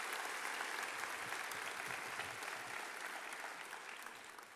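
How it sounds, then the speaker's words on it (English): Steady applause from a large audience at a middle school promotion ceremony, dense and sustained with no speech, fading slightly toward the end. "so let's give them a round of applause."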